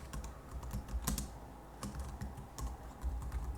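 Quiet typing on a computer keyboard while entering text in an Excel spreadsheet, irregular clusters of close key taps with brief pauses and no speech.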